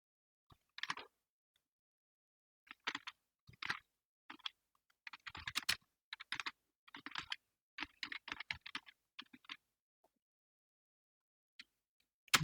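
Bursts of close, crisp keystrokes on a computer keyboard, clustered into quick typed words separated by short silent pauses, ending with a couple of isolated taps.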